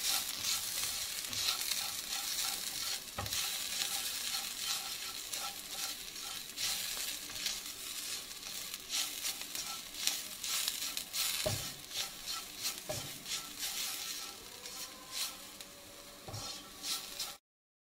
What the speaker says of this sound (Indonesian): Ditumis hingga wangi.